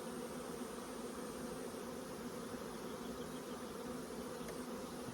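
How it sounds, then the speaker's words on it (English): A large swarm of honeybees buzzes in a dense, continuous drone, steady and even throughout, with no voices. "It's a lovely sized swarm."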